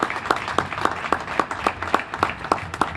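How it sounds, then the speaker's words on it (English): Applause at a New Bedford City Council flag raising for Cape Verdean Recognition Week: a small group clapping in a steady, evenly spaced rhythm, fairly sparse and moderately loud, with no talk over it. "You deserve a round of applause."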